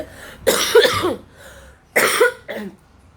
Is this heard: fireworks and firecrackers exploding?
no